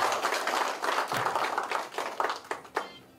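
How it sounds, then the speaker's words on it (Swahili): Audience applause at a Wavinya Cup county tournament gathering in Kenya: a dense, fairly close wash of clapping that thins toward the end into a few scattered, separate claps, with no voices over it. "Tupigie makofi tafadhali"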